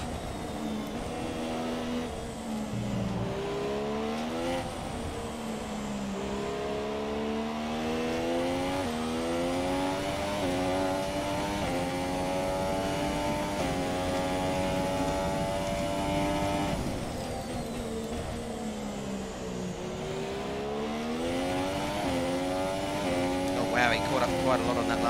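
A Williams F1 car engine screams through gear changes in the F1 2017 game at the Chinese Grand Prix, with a steady high-revving whine rising and falling as it races, while a voice talks over it.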